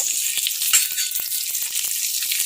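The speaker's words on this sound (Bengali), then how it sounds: "এই যে ছোটো এলাচ এগুলো ফোড়ন দিয়ে লাল করে ভেজে লাউটা দিয়ে দিব" Whole spices for tempering, bay leaf, cumin, dried and green chilli, and green cardamom, sizzle loudly in hot oil, a close, continuous crackling hiss with small pops and a brief stir near the start.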